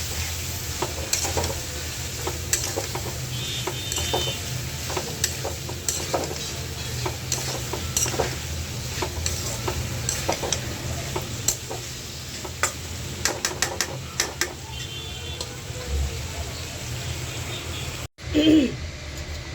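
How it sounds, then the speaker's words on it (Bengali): Cauliflower and potato fry in spiced oil in a pan, giving a continuous sizzle with frequent crackles and stirring clatter and a brief thump near the end. "এখন আমি এই যে ফুলকপি আলুটা ভাজা দিয়ে দিলাম।"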